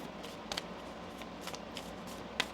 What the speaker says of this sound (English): Let's get you a Moonology card here. One more shuffle.